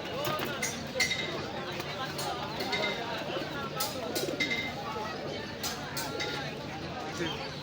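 Pigeons at an open-air pigeon market coo softly beneath close, continuous human talk and crowd chatter, with occasional sharp clinks punctuating the bustle.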